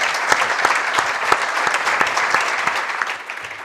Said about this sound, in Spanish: pido un fuerte aplauso para nuestros ponentes